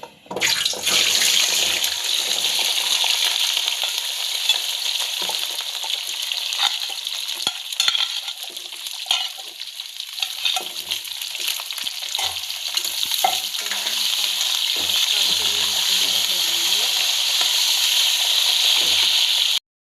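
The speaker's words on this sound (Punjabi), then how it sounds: "ਦੋ ਤਿੰਨ ਮਿੰਟ ਆਪਾਂ ਇਹਨਾਂ ਨੂੰ ਆਇਲ ਦੇ ਵਿੱਚ ਆਮਲੇ ਨੂੰ ਚੰਗੀ ਤਰ੍ਹਾਂ ਫਰਾਈ ਕਰਾਂਗੇ" Amla, Indian gooseberries, fry in hot oil in a kadai, giving a loud, dense, continuous sizzle with crackling bursts and occasional scraping as a ladle stirs them, with no voices.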